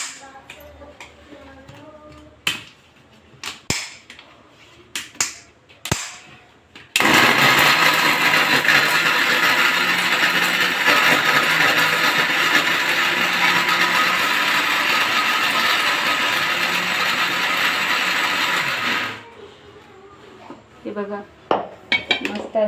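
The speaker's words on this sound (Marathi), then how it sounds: "आणि मिक्सरमधून काढून घ्यायचे" A kitchen mixer grinder loudly grinds leftover chapatis into crumbs in one steady burst of about twelve seconds, preceded and followed by clattering of the jar and utensils.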